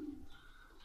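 A male racing pigeon, hatched in 2016 and back home after a 960 km marathon race, gives a single short, faint coo.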